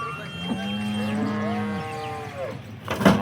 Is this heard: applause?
no